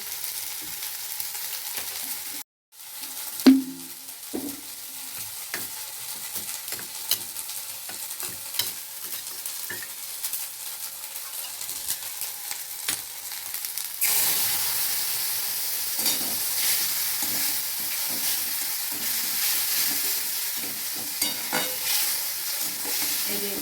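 Chopped green chillies and spices are sautéed in a pan, with a spoon scraping and tapping against the metal over a low sizzle that swells louder in the second half.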